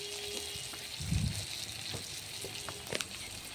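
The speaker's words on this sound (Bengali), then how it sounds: "তো মশলাটা ভাজা হোক" Spice masala frying in a pan gives a steady moderate sizzle with a few stirring knocks and clinks, close by and without talk.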